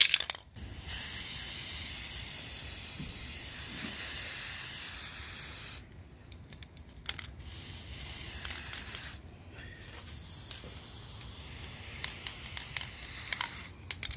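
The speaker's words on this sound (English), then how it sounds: "Going to the opposite side, and I'm gonna spray" White spray paint hisses from a can in long, close bursts, with short pauses between the sprays, while a DIY pencil storage holder is being coated.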